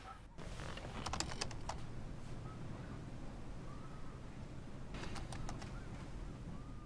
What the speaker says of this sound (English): primarily communicates by typing on a computer